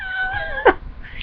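A cat gives a single drawn-out, wavering meow that bends downward and ends in a short sharper cry, close and clear against quiet room noise.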